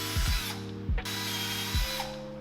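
Power drill boring holes in a 2022 Yamaha R7 motorcycle fender eliminator, three short whirring bursts that rev up and wind down, close and alone.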